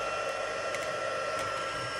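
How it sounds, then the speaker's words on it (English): Embossing heat gun running at a steady, loud whir with a constant airy roar and faint tonal hum, close by and uninterrupted. "While my heat gun's heating up"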